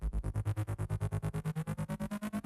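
A synthesizer patch pulses in a steady 16th-note pattern, about eight evenly spaced tonal stabs per second with a filter gradually opening, moderately loud and alone.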